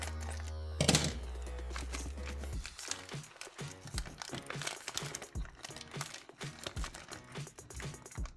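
Crinkly plastic bag rustling and sharp scissor snips as it is cut open, a burst of handling noise near the start, then steady crackling and tapping close to the mic.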